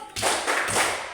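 A group of people claps together in a classroom clapping routine, giving a couple of loud, broadband bursts of massed hand claps close by with no talking.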